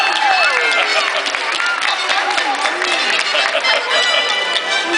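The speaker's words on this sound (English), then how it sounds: "please put your hands together and cheer for the fairest one of all, Snow White!" Audience at Princess Fantasy Faire clapping and cheering for Snow White, a dense, steady wash of applause with children's shouts and cheers throughout.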